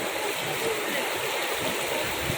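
Water at Dowki Lake in Meghalaya rushes in a steady broadband flow like a stream or small fall, loud and constant throughout with no pauses.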